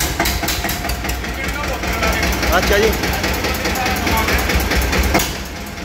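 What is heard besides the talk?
tractor engine idling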